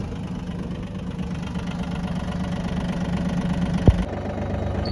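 Japanese mini tractor engine running while ploughing a field: a steady, close, low rumbling drone with even knocking pulses throughout, with no voices over it.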